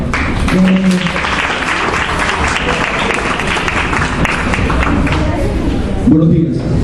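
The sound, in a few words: audience applause at a seminar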